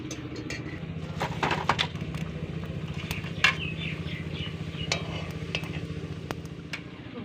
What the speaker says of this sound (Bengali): সমস্ত রোলগুলোই আমি এইভাবে ভেজে নিলাম